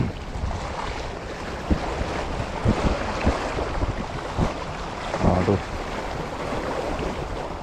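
Gusty seaside wind during shore-based squid fishing at Pangkor, a steady rough rush with scattered knocks and thumps and a slight swell of waves underneath.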